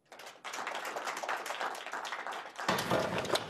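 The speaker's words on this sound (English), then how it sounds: "join me in a round of applause for our speakers" Audience applause for the speakers at the close of a talk, a dense wash of many hands clapping that swells after a brief start and continues steadily, full and near.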